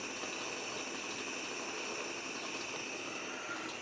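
A gas stove burner hisses steadily beneath a steam juicer making strawberry juice, a constant faint airy rush with no changes or voices.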